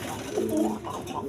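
Domestic pigeons at a pigeon dealer give a soft, low coo that swells and fades, heard nearby without speech.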